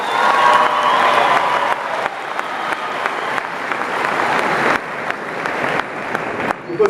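Audience applause at a university launch event, a dense steady wash of many hands clapping throughout with a few cheers, loud and close, fading slightly toward the end.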